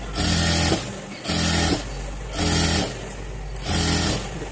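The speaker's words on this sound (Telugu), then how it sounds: "ఇదైతే మనకి కరెక్ట్గా ఉందో అటు పట్టుకొని స్ట్రైట్గా స్టిచ్ చేసుకోవాలి" Sewing machine running straight stitches on a blouse piece cut from a saree for a one-year-old baby, in four loud bursts of steady whirring separated by short pauses, no talking.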